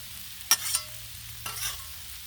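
Cabbage, kielbasa and potatoes cooking on a Blackstone griddle, a faint steady sizzle broken by two short bursts of spatula scraping and stirring, close by with no talking.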